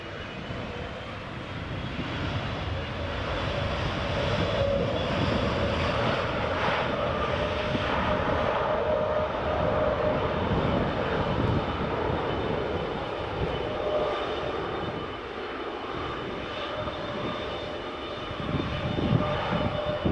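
An EasyJet airliner landing at Edinburgh Airport, its engines a steady, loud broadband roar that holds for the whole stretch with a faint whine on top, alone without voices.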